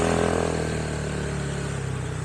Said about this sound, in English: although I love the sound of this bike, I'm hoping the engine's not drowning out my voice